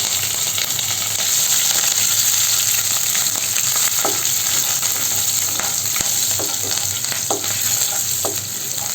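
Chopped garlic and slit green chillies fry in hot oil in a pan, giving a loud, continuous sizzle with scattered crackles and occasional stirring clicks throughout.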